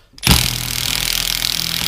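An impact gun undoing bolts on a Land Rover differential carrier, a sharp pneumatic burst that settles into a steady, loud buzzing rattle held for the rest of the moment.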